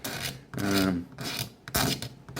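Rough rasping scrapes in two long strokes as layer lines are scraped off a 3D print, close and fairly loud, with a brief pause between them.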